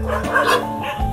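Dogs at an animal shelter bark and yip in a brief, close burst of overlapping calls.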